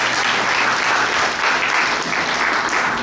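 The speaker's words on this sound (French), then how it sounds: "applaudissez-les s'il vous plaît" A live crowd at a children's quiz competition in Paris applauds continuously, a thick, even roar of many hands clapping throughout.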